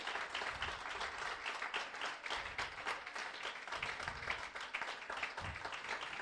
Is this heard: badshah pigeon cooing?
no